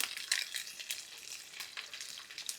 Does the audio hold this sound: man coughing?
no